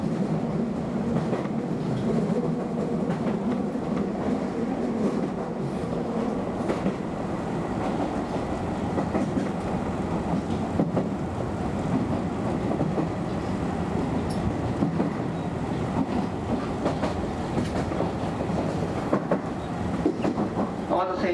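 Keio Inokashira Line express train running between Kichijoji and Shibuya, heard from the front of the train. A steady, continuous rumble of wheels on rail, with faint rhythmic clickety-clack throughout.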